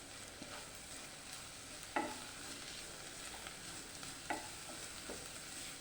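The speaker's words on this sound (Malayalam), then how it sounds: "അതും ഇട്ട് നല്ലതുപോലെ ഒന്ന് വഴറ്റിയെടുക്കാം." Chopped carrot and green chilli for samosa filling are sautéed in a pan: a low continuous sizzle broken by several sharp scraping stirs of a spoon, quiet and alone.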